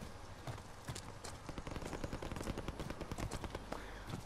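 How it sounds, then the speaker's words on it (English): Rapid bursts of distant gunfire crackle through a video game match, dense and irregular, with shots sounding near despite their distance. "I find the shots always seem to sound closer than they actually are."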